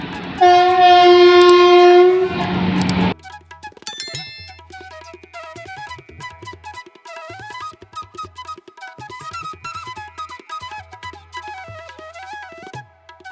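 A loud train horn blares for a few seconds at a crowded station, then fades into a busy clatter of rhythmic mechanical clicks and chimes from a passing train.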